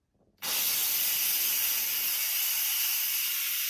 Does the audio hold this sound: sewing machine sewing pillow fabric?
no